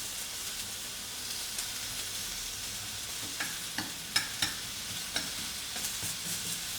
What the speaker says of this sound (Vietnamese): Mình nướng phần hành gừng trước